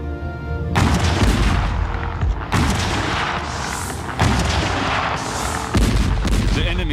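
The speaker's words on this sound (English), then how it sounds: "52 gigantic French siege guns would be devastatingly effective at that range. On the 10th of October, the Allies opened fire." French siege guns of the American Revolution firing as a battle sound effect, heavy booming artillery shots arriving in several loud, rolling volleys that overlap into a continuous thunderous barrage.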